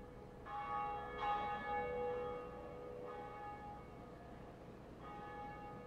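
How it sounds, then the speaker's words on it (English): A large bell tolls in the Dark Souls video game, its long ringing tones repeating in several strikes that sustain and fade over a steady background hum. "Now ring that motherfucking bell."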